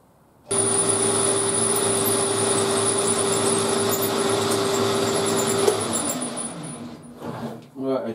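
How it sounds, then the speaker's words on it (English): A power drill with a 10mm bit bores right through metal, a loud steady whine with a sustained tone running for about five seconds before cutting off, followed by a few rougher knocks and clatter. "I drill right the way through there with a 10mm."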